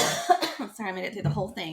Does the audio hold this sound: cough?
yes